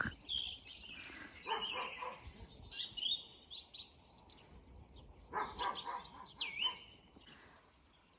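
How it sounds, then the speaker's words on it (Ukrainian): Small birds chirp and sing in short bursts in the morning, fairly faint and somewhat distant, with a dog barking intermittently alongside and quiet background in between. "Пісні з добрим ранком від пташечок."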